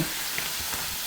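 Meat for a stir-fry sizzles steadily in a hot pan, a short, even frying hiss with no other sounds.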